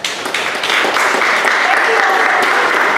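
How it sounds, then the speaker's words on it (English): A seminar audience at a student leadership academy breaks into a round of applause, full and close, many hands clapping steadily through the short stretch with faint voices mixed in. "Well, give yourselves a round of applause."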